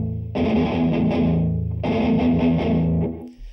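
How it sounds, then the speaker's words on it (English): Distorted electric guitar chords through a tape echo with feedback and delay time turned way down ring out in two long strummed phrases, each smeared with repeating echoes, loud and close with no voice. "I put a tape echo on there, cranked the feedback and times way down"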